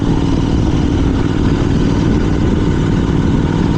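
Royal Enfield GT 650 motorcycle with an RRP exhaust running steadily, a continuous deep engine rumble held close and loud throughout, with no talk over it.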